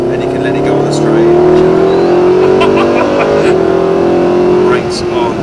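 Car engine pulling hard down a straight on a track, a steady rising harmonic drone building in pitch, loud and close throughout, with a voice talking over it.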